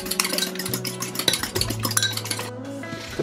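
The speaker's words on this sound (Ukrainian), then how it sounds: "Розбиваємо яєчко. Два. Трішки солимо. І взбиваємо." Eggs with a pinch of salt are whisked in a bowl for an omelette, giving quick close clinking and tapping of the utensil against the bowl with a faint ringing tone underneath.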